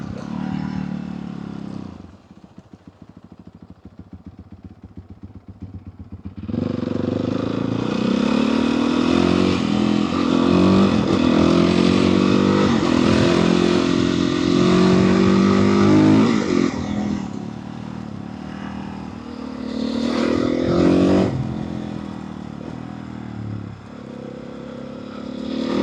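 Motorcycle with its stock exhaust fitted, idling briefly then accelerating hard with a loud rising engine roar heard close up, easing off and surging again near the end.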